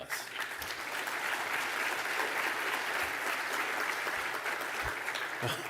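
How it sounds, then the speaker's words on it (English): Applause for the volunteers at an awards dinner, a full room of diners clapping steadily at moderate volume, sustained without talk. "they deserve a big round of applause"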